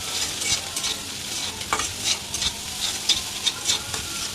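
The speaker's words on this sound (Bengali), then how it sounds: "নুডলসের সব উপকরণগুলো আমি ভেজে নিচ্ছিলাম ভালো মতো" Noodle ingredients frying with spices in a pan, a bright continuous sizzle with frequent quick stirring scrapes and clicks, close up and fairly loud throughout.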